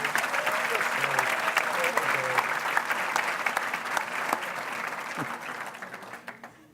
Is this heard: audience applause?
yes